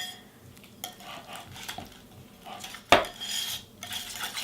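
Butter and cream cheese are whisked by hand in a bowl, giving soft scraping strokes and light clinks of metal on the bowl, with one sharper clank partway through, quiet and close.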